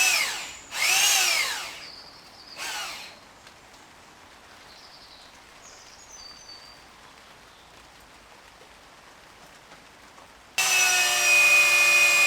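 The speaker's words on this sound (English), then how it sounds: "Mortised, drilled for the dowel" A power drill bores dowel holes in wood for a mortised barn-building joint, with two loud whining bursts early on, a quiet gap with faint tool noises, then a steady, loud high-pitched drilling run near the end.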